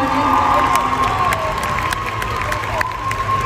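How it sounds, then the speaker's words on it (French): A crowd at a cosplay contest at a Paris manga and sci-fi show claps and cheers steadily, with whoops and shouts mixed into the applause, lively and sustained throughout. "Nous avons donc notre nouvelle représentante que je vous demande d'applaudir encore une fois, Clover."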